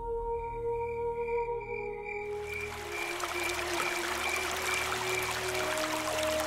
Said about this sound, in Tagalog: tanging anod ng ilog na lang ang iyong maririnig sa sandaling iyon